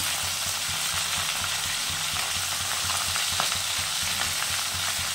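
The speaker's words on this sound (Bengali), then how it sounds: "সিমটা ভেজে নেয় ভালো করে" Flat beans fry in a hot pan with oil, giving a dense, continuous sizzle and crackle with light stirring, close and loud, with no voices.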